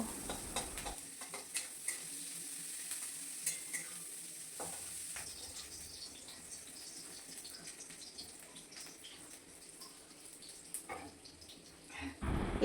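Onions and green chillies frying in a pan of oil, a faint, steady sizzle with occasional soft stirring scrapes throughout, no talking.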